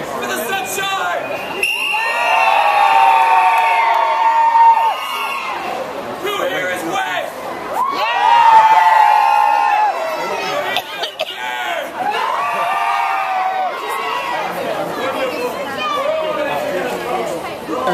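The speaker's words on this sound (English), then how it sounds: "give a huge cheer for the sunshine" A large outdoor crowd at the Olympic torch relay in Grantham cheers and whoops in repeated loud swells, with children shouting and steady chatter between the bursts.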